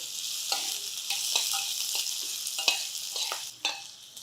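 Finely chopped onion, half an onion, frying in a pan: a continuous bright sizzle with intermittent spoon stirs and light taps against the pan, close and moderately loud, no talking.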